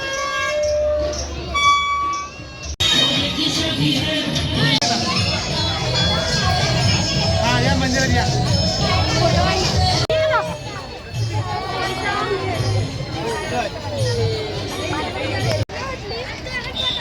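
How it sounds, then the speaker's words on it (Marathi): A dense crowd packs a Shiva temple on Mahashivratri, a loud continuous babble of many voices with children calling out, while a nearby person talks over the hubbub. "पण भाई गर्दी जाम आहे."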